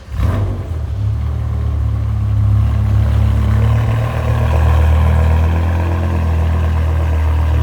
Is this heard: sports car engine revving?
yes